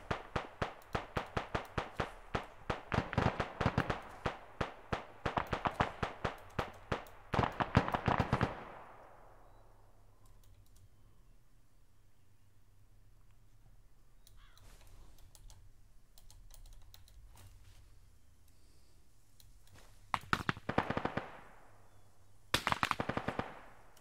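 Gunfire in the video game Arma 3 rattles off in rapid bursts, some close and sharp, then drops to near silence before a few more short volleys from a distance.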